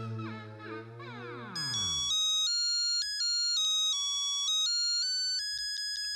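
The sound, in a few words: telephone ringing while calling fire brigade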